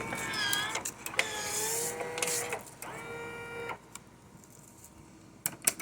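A Powermatic 3 electric cigarette-rolling machine runs through a cycle, whirring and grinding in several clear motor bursts with rising and falling pitch, followed by quieter pauses and a few sharp clicks near the end, with no talking.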